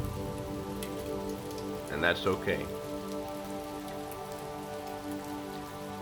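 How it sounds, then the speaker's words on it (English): Steady rain patters on surfaces outdoors, a continuous dense hiss with a low hum beneath, while a voice speaks briefly in the middle. "And we just have to accept that, the rain's here."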